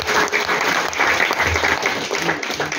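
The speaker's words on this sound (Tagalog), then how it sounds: "bigyan natin ng isang malakas na palakpak si Yolimar" A church congregation at a thanksgiving Mass gives a round of applause, steady clapping that swells and fades over a few seconds with a faint voice beneath.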